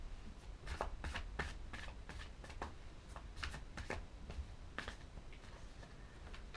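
Tarot cards are shuffled by hand in a quiet room, a series of crisp riffling flutters and soft taps in irregular bursts, close and fairly faint.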